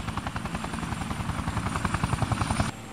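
Police helicopter in the video game Yakuza 4, its rotor chopping in a steady, loud, pulsing beat throughout before dropping off sharply near the end.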